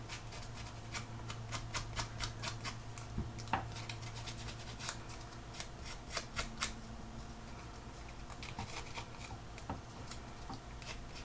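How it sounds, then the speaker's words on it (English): Scissors snipping and tattering the edges of thick card in a papercraft mini album project, a close series of short crisp cuts and rustles over a low steady hum. "Can be a little more aggressive with the scissors because this is thicker card."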